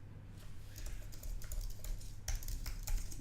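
Quick bursts of clicking keys on a computer keyboard, irregular taps close to the microphone over a steady low hum.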